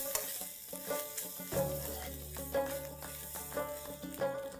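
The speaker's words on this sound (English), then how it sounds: "Let's add a teaspoon of ginger paste, a teaspoon of garlic paste. Saute this till the raw smell goes off" Ginger and garlic paste frying in a pan for Hyderabadi mutton tahari, soft steady sizzling with occasional stirring clicks, while a low tonal hum underneath rises partway through.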